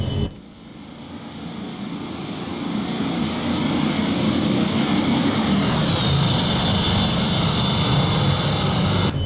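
Gulfstream 550 jet engines roar steadily at takeoff power in X-Plane 12, a loud broadband rush with a high whine that shifts pitch partway through, with no talk over it.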